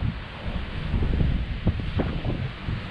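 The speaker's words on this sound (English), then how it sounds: "it's actually getting quite windy right now" Steady wind buffets the microphone on the California coast where purple sea urchins are foraged, a continuous low rumble with gusty swells that rises and falls across the whole stretch and carries no speech.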